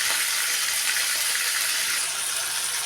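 Onions sizzle steadily in a hot pan for a village-style coriander chutney, a continuous close frying hiss with no talk over it.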